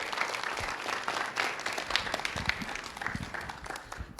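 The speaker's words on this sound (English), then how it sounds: "Let's give Colleen a round of applause" Audience applause after a lunchtime lecture on barred, barn, great horned and screech owls, a steady patter of many hands clapping from a mid-sized indoor crowd, moderately loud and sustained throughout without speech.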